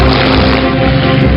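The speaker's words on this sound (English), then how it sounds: "P-51 Mustang." A P-51 Mustang propeller fighter drones steadily with a loud, continuous engine roar and airscrew hum, no voices over it.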